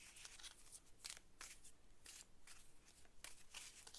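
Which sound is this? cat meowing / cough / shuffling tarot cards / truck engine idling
shuffling tarot cards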